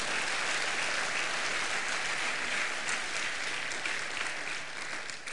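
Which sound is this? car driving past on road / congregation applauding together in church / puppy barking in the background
congregation applauding together in church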